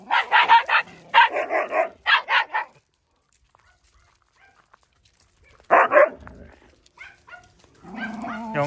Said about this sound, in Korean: 아, 그만 좀 짖어라